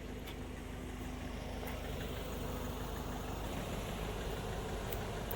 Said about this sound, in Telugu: ఇంజిన్